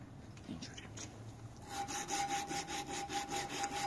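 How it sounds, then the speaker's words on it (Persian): A wooden knife handle is sanded by hand with finer sandpaper, giving about ten steady, rhythmic rasping strokes close up after a quieter start. "این قسمت رو هم با سنباده باریکتری شروع میکنیم به زدن."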